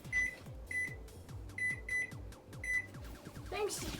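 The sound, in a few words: kitchen timer being turned on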